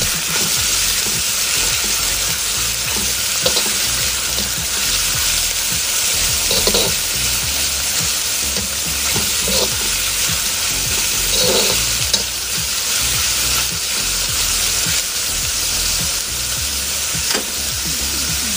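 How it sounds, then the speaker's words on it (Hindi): Chopped vegetables and cabbage for veggie momos are slowly stirred in a hot pan, a loud continuous sizzle and hiss with repeated scraping turns throughout, no one talking. "इसको अब हम धीरे धीरे इस तरह से मिक्स कर लेंगे सब्जियों को।"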